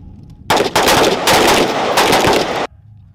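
Semi-automatic rifles fire on a range during joint reflexive-fire training, loud overlapping rapid shots in bursts lasting about two seconds, with no talk.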